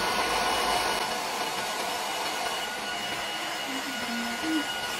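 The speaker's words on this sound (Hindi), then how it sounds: "अब मैंने अपने ब्रश को ऐसे पकड़ लिया है और बस इसको मैं अभी ड्रायर लगाऊंगी।" A hair dryer blows steadily and close while hair is brushed straight for a blow-dry, a continuous broadband whoosh running throughout with no pause.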